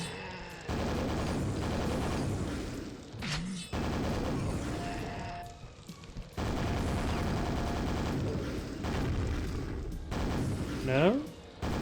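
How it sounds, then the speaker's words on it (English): The nail gun fires in the video game Quake in dense, rapid bursts mixed with other game noises, while someone talks over the action. "So let's switch to the nail gun."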